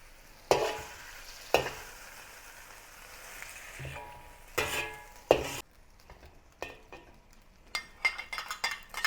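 Garlic, ginger and spring onion saute in leftover beef oil in a wok, a soft sizzle punctuated by sharp metallic scrapes and clinks of a utensil against the pan at irregular intervals.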